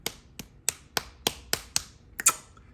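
Hand claps, eight sharp separate claps in a fairly regular rhythm, close and dry in a quiet room, the last two coming quickly together.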